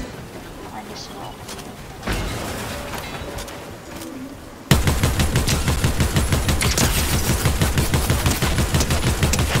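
Rapid, sustained high fire rate assault rifle shooting in a Fortnite match, loud evenly spaced shots in a long unbroken burst after quieter game ambience.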